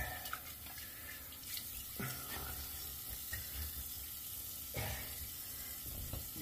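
Tap water runs steadily into a sink while suds are rinsed off after a shave with Taylor of Old Bond Street avocado cream, a soft continuous hiss and splash with occasional louder splashes, faint and close, with no talking.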